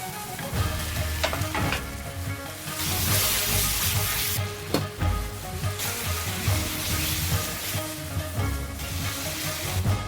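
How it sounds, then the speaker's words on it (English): Steady, loud sizzling of chicken frying in a hot pan for Chinese-style lemon chicken, with occasional stirring clatter over a constant crackling hiss. "And we add all the chicken at once."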